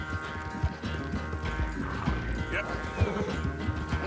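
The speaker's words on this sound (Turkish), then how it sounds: "Bunun atı nasıl 4 nala koşuyor da?" Horse hooves clip-clop at a gallop in the open-world western video game Red Dead Redemption 2, a steady drumming rhythm heard over game music and someone talking in Turkish.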